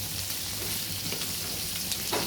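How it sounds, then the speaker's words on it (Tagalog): Prawns sautéing in a little cooking oil in a pan: a steady close sizzle and crackle with soft stirring scrapes, continuous and fairly quiet, no talking. "maglagay na tayo ng kaunting mantika para sa ating prawn. Ayan, una ilagay natin ang ating prawn. Gisa-gisa lang natin siya."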